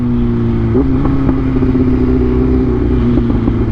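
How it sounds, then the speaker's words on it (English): A BMW S1000RR sport motorcycle engine rumbles steadily up close, its pitch rising in a couple of quick revs over a loud, continuous exhaust drone. "I know you hear that exhaust, baby."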